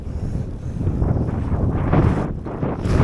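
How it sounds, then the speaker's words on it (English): Strong wind buffets the microphone on Gwynant Lake in North Wales during a kayaking outing, a steady low roar that swells and gusts throughout with no one speaking. "It's the wind, lad!"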